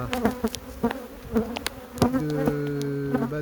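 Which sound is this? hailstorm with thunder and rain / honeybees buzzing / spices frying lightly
honeybees buzzing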